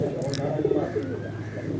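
A high-flyer pigeon coos in a low, soft, throaty rumble, close by, with some background noise throughout.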